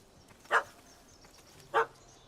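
A dog in the video game The Witcher 3 barks twice, sharp and clear, about a second apart, over quiet background ambience.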